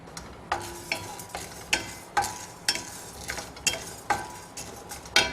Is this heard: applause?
no